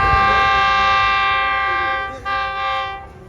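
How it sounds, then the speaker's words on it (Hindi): The Rehman Baba Express, hauled by locomotive GU40 9015, sounds a long, loud sustained horn as it pulls into Dig Road junction railway station, fading briefly near the end. "फाइनली 1 बजे और 40 मिनट लेट हमारी ट्रेन पहुंच रही है डिग रोड जंक्शन रेलवे स्टेशन पर"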